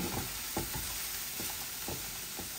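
A steady, close sizzle of mixed vegetables with green chillies frying gently, with a few soft stirring scrapes at irregular intervals.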